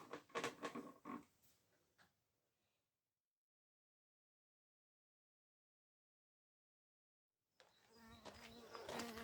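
A wasp buzzes close by at a Portuguese quinta, with a burst of rough buzzing at the start, a long stretch of silence, then the loud buzz returning near the end.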